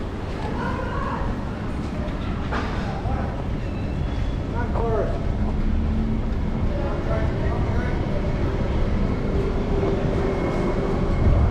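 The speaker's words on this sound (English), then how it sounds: "This is the Central train." A Central-bound train in New South Wales, Australia, rumbles along continuously with a loud, steady roar and faint squeals, while people talk over the noise.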